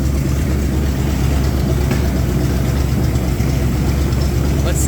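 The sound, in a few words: engine of home-built car running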